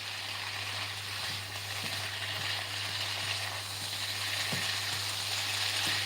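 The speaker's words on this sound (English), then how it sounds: "So mix everything together." Potato and mixed vegetables frying in a pan, a faint, steady low sizzle with a constant hum and occasional soft stirring clicks.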